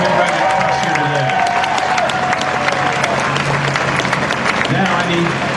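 An outdoor crowd at a Big Red Express train event applauds loudly and continuously, dense clapping mixed with scattered cheers, with some talking underneath.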